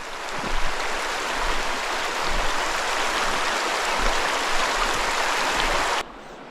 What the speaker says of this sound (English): It's a beautiful stream.